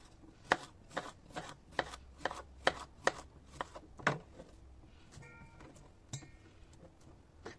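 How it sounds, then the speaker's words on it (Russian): A knife slices a cucumber on a cutting board for a tuna and avocado salad, about a dozen crisp, quiet chops in a steady rhythm before a short pause. "Нарезаем огурчик."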